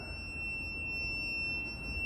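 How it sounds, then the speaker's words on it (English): A CAT CJ1000DXT portable power station gives off a continuous, steady, high-pitched electronic beep, faint and unbroken, alone over a soft low background hiss. "started making this weird beep. I can't shut it off."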